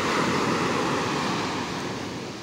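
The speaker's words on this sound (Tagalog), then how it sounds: "Malaki pa ating alon." Large sea waves breaking and washing onto the shore at a fishing landing, a steady loud roar of surf with wind, continuous and close throughout.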